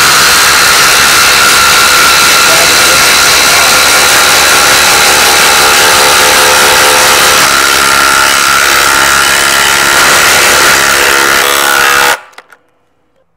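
A Milwaukee or Makita cordless impact driver drives a 6-inch lag screw, giving a loud, continuous whirring hammer for about twelve seconds before stopping abruptly into silence.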